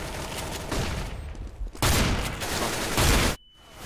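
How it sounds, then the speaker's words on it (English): A flashbang grenade goes off in Counter-Strike: Global Offensive amid a dense burst of gunfire, loud and close, then cuts to a thin high ringing tone. "Deploying flashbang."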